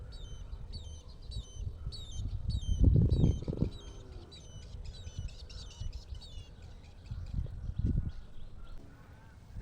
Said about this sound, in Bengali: এখানে একটি পাখি আর অন্যদিকে ভিতরে আরেকটি আছে একে অপরকে ডাকছে